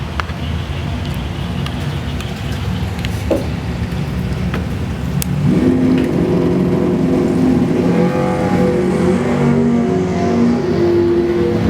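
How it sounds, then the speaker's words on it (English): A red Camaro with a 454 engine launches down a drag strip, its loud engine climbing steeply in pitch as it accelerates against another Camaro, with faint announcer talk underneath. "J.R. Taylor moving hard with the 454 in his red Camaro, trying to catch John Wisman in the 69 Camaro convertible."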